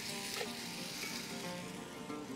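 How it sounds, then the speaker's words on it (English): Onions sautéing in olive oil in a campfire pot give off a soft, steady sizzle that holds evenly throughout with no pauses and no voices. "sweat off the onions in the olive oil"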